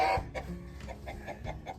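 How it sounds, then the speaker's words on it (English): Hens kept inside a fence cluck in short, quick bursts, fairly close and moderately loud, with a brief louder squawk at the start. "Got all the hens are up inside there."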